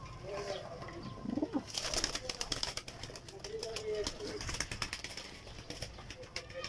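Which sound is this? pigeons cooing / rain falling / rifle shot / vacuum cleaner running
pigeons cooing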